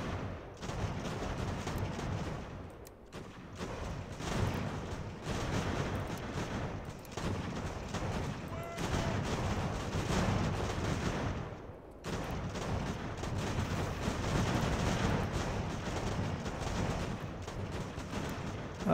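Massed musket volleys crackle through a battle in Ultimate General American Revolution, dense overlapping gunfire rolling on continuously with brief lulls near three and twelve seconds.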